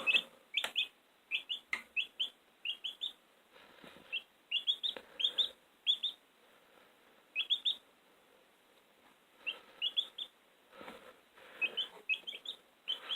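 High, thin peeping of newly hatched chicks in an incubator, quick bursts of several chirps repeating close by with short quiet gaps between and no talking.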